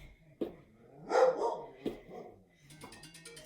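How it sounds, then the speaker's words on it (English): A dog barks faintly in the distance, two or three sharp single barks spaced a second or so apart, in an otherwise quiet room. "Oh, and the dog is going."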